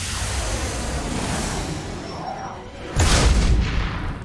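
A grenade goes off in the Mass Effect 2 video game, a sudden heavy boom after a stretch of low rumbling combat ambience, loud and close, with its rumble lingering.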